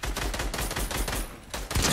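Repeated shots from a first-person shooter game crack out in a fast, fairly loud sequence, with a brief lull before a final heavier burst.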